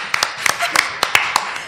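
Studio applause on a variety show: several sharp, separate claps in an irregular rhythm, heard close alongside talking voices.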